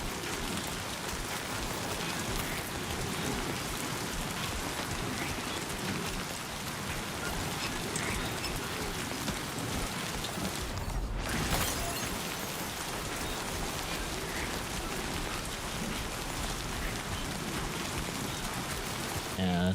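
Timefall rain in the video game Death Stranding 2 pours as a dense, steady hiss for the whole stretch, with a short sharper burst partway through and no break in the downpour.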